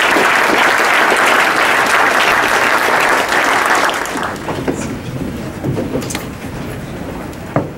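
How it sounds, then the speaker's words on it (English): Audience applause at the uOBMRI-Rowan's Legacy Symposium, a full, dense round of clapping for about four seconds that thins into scattered claps and trails off. "So give yourselves a big round of applause."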